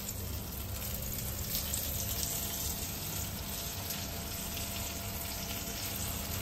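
Steady, continuous sizzle of food frying in a pan of oil over a gas flame in a home kitchen, a dense hiss that holds even and fairly close throughout with no voices.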